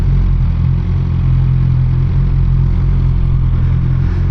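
A loud, rumbling Suzuki GSX-R 600 engine with an aftermarket M4 exhaust idles close by, with a deep, throaty exhaust note that holds steady throughout.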